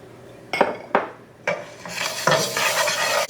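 Coriander seeds dry-roast in a pan as a spoon stirs them, making a few scraping sweeps at first and then a continuous dry, rattling scrape and shuffle, close and fairly loud.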